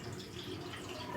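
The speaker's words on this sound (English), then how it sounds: "So we're gonna get some warm water here." Warm water runs steadily from a tap into a sink for a post-shave rinse, a continuous close splashing flow with faint drips, no voices.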